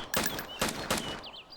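Gunfire in a multiplayer shooter video game: three quick bursts of rapid shots close together over about a second, with faint game sound between them and a sharp loud shot at the very end.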